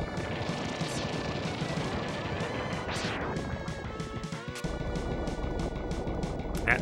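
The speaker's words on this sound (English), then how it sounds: "That stereo is really cool on the explosions in the background." Explosions in the Mega Man X2 video game boom and crash through a dense, loud game soundtrack, with a sharp burst near the middle and more impacts toward the end, spread across the stereo field.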